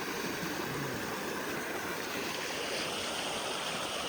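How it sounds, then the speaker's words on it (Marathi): A village river flows past steadily, a continuous broadband rush of moving water with no voices and no break in the sound. "मित्रांनो ही आपल्या गावची नदी आहे"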